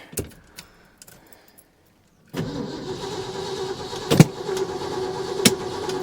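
Keys jangle near a quiet cab, then an old truck engine cranks and catches after a couple of seconds and runs at a rough idle with a few sharp revs, close and alone.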